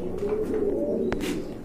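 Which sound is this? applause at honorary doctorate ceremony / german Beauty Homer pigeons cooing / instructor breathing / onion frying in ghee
german Beauty Homer pigeons cooing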